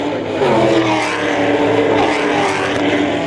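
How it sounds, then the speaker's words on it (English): A Ford Mustang race car in a Mustang Challenge race at Mosport Raceway gives a loud, sustained engine roar, with a steady drone holding near and strong throughout. "Mustang Challenge, Mosport Raceway, Andrew Hendricks."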